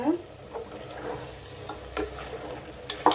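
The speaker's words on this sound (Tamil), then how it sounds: "கறி மட்டன் நல்லா எண்ணெயில் வதங்கினா தான் நல்லாயிருக்கும்" Mutton pieces sautéing in oil with a low, steady sizzle underneath occasional stirring scrapes, close by, with a couple of sharper clinks near the end and no clear voices.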